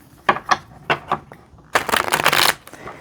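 Close-up shuffling of a tarot deck: several short card flicks, then a sustained riffle as the cards cascade together, crisp and near.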